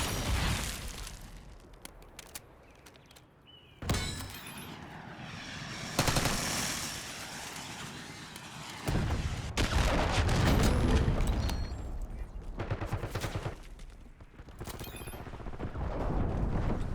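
Call of Duty Black Ops 6 combat with a grenade explosion and gunfire, bursts of blasts and roaring engine-like noise broken by abrupt cuts and quieter gaps.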